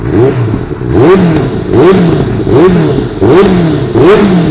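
A 2017 Benelli BN600i motorcycle with an aftermarket Termignoni-style exhaust revs repeatedly, loud and close, in rhythmic throttle blips that rise and fall about once a second.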